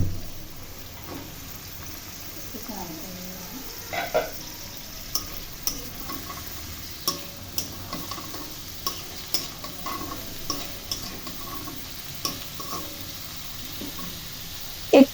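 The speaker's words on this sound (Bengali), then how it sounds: "পেঁয়াজের কাঁচা গন্ধ চলে গেলে আমি কাঁঠালের বিচি ঢেলে দিলাম। তারপর পটলের ফালিগুলো ঢেলে দিলাম।" Jackfruit seeds and pointed gourd slices fry in a pan with onions, a low steady sizzle under repeated scraping and stirring knocks of a spatula, close and moderate in level.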